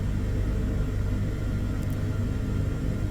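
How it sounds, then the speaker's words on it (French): A helicopter rotor spins up in Microsoft Flight Simulator 2020 during a mountain mission to the Refuge du Goûter, a steady low rumble with a continuous engine drone at an even loudness throughout, with no talk. "on commence à avoir le rotor qui commence à être un petit peu rapide"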